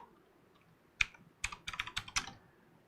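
Close computer keyboard typing: a single keystroke, then a quick run of about eight sharp, uneven clicks in a brief burst on a quiet background, during a PC build with an Intel 14700K in a Fractal Design Focus G case.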